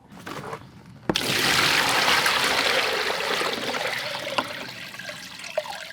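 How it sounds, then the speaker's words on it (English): Water pours steadily and loudly into a container being filled for a yellowjacket wasp trap, a brief trickle giving way to a sudden, sustained gushing flow heard up close. "Now the next step is we need to fill this container with water."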